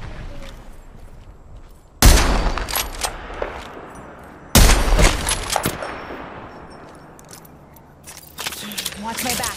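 Gunfire in the online shooter Apex Legends comes in two sharp loud bursts of rapid shots with ringing tails, followed by scattered softer shots and game effects.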